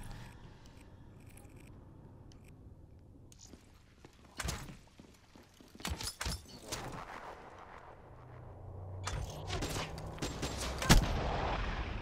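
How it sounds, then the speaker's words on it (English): Several sharp crossbow shots in a multiplayer shooter game, loud percussive hits scattered across a busy battle soundscape with other gunfire and thumps. "How much crossbow shots was that?"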